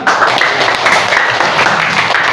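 A class of sixth-grade pupils claps together in a steady, dense burst that holds loud and even for the whole stretch, with no voices standing out.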